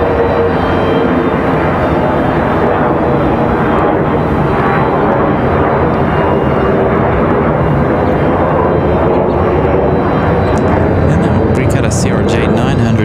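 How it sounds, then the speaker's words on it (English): A Delta Airlines CRJ 900 jet engine roars loudly and steadily as the plane departs Raleigh-Durham International Airport, a broad continuous rumble filling the whole stretch. "CRJ 900 departing now for Delta Airlines."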